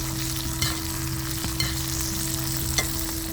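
A sesame-crusted tuna steak sears in a hot pan with an even, continuous close sizzle and a steady hum beneath, broken by a few brief crackling pops.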